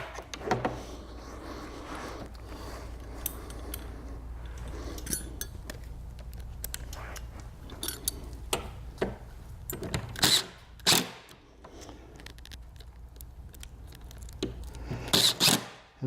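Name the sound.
driving screws into a desk hinge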